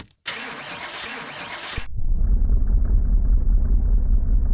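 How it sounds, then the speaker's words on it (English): A Chevrolet Camaro IROC-Z's starter motor cranks briefly on its first start after restoration, then the engine catches and settles into a steady, deep rumbling idle. "let's fire this car up for the first time"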